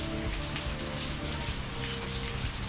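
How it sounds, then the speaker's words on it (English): Rain falling steadily on a surface in rural Thailand, a dense close patter of drops with a constant wash underneath and faint tonal hum in the background, no voices. "But I wish it would stop raining."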